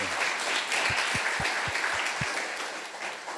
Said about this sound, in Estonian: Aplaus neile